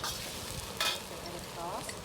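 Shrimp lo mein noodles stir-frying in a hot pan, a steady close sizzle with a brief louder scrape of the utensil partway through.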